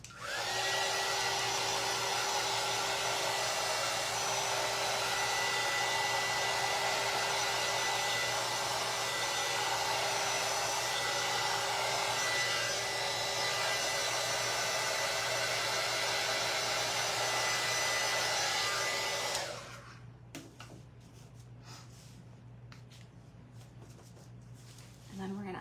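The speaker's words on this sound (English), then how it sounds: "Let me dry that real quick." A hair dryer drying paint blows with a loud, steady whirring drone for about nineteen seconds, then cuts off abruptly, leaving only faint scattered handling sounds.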